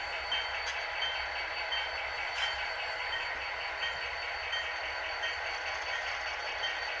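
A model train locomotive runs along its track with a continuous whirring hum and faint rhythmic clicks, close and steady throughout with no talk.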